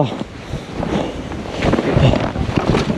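Strong wind gusts across the snowy Eokssae peak of Bangjangsan in about minus 20°C winter cold. Loud buffeting rumbles against the microphone and swells midway.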